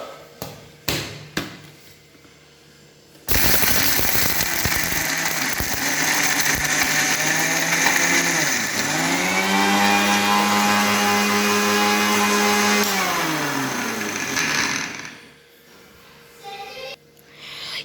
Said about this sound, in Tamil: இப்போ நம்ம அரைச்சிடலாம்.